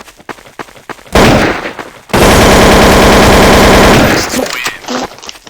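Automatic gunfire in Counter-Strike: Source, loud and close, a short burst followed by a longer sustained spray of rapid shots, with scattered clicks and game noise around them.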